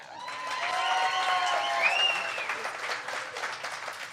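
A small audience at a comedy stage show claps and cheers, with whoops and excited voices over the clapping before it thins into scattered claps.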